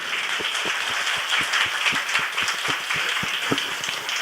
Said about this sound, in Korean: 우리 네 분 수고했다고 박수 한번 부탁드립니다